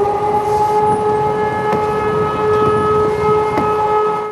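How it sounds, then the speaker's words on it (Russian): A loud civil defense warning siren drones steadily during a test of the warning system in Samara Oblast, Russia, holding sustained wailing tones over a faint background rumble, with no one speaking. "По всей Самарской области сегодня раздался гул сирены."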